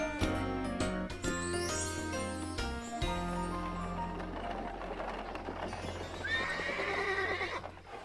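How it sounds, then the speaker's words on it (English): Musical notes give way to a horse's rhythmic clip-clopping hooves, followed by a loud, wavering whinny near the end. "That sounds like a horse."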